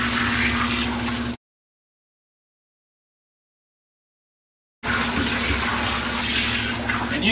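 A water hose sprays steadily while a big dog is washed, a continuous hiss and splash that stops abruptly for a few seconds and then resumes.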